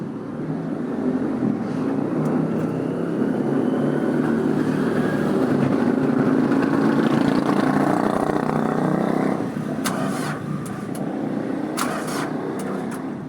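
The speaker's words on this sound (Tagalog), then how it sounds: "Try natin kumandar. Start." The engine of a Mitsubishi L300 van cranks and churns steadily for about nine seconds without catching, then drops to a lower hum with a few sharp clicks.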